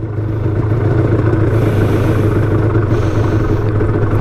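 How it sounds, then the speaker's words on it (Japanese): A Honda CRM50 motorcycle engine idles close by, choke left pulled out, with a steady, low, throbbing rumble that continues unbroken throughout. "ちょっとアイドリング下げます。"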